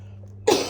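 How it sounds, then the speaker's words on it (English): A single short cough bursts out near the end after a quiet hum, close and abrupt. "I'm going to cough."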